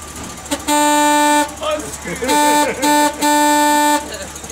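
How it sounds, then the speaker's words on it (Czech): A Cadillac Eldorado car horn honks in three long, loud blasts, with short pauses between them and people talking in the gaps. "Klakson troubí, nebo akorát ho nemůže najít."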